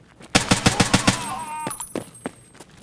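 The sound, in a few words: ADAR rifle gunfire in Escape from Tarkov video game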